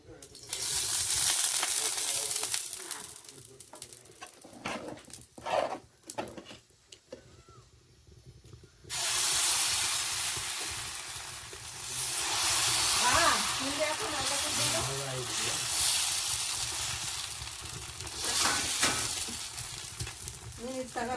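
Dosa batter hits a hot pan in a home kitchen and sizzles with a loud, steady frying hiss that rises and fades over time, while someone talks over it in Kannada.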